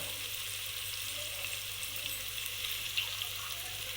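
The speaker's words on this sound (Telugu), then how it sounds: "మసాలా నుంచి ఆయిల్ బయటకు వచ్చిన తర్వాత వాటర్ వేసుకోవాలి" Water added to masala frying in oil for moong dal kichidi, giving an even, continuous hissing sizzle close by with no talking.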